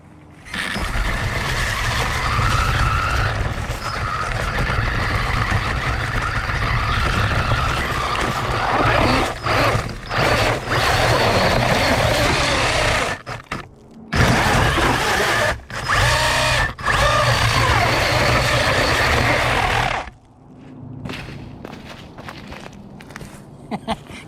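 A HOSIM 1/16 scale RC car drives with a continuous whining electric motor buzz that rises and drops over several passes, cutting out briefly, then stopping near the end.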